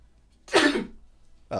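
A single sharp sneeze bursts out close to the microphone, followed by a brief quiet before another sound begins.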